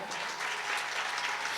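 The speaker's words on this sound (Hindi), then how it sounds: "एक बार अपन अपन ताली बजाओ" An audience claps at a religious Manas recitation gathering, a dense, steady patter of many hands sustained at moderate distance.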